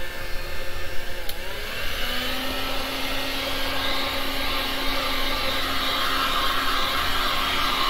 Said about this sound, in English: I'm gonna turn off my heat gun.